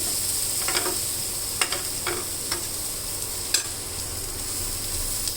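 Egg and oats breakfast frying in butter in a pan: a soft, steady sizzle runs throughout, broken by a few sharp clicks and scrapes of a utensil stirring, with no voices.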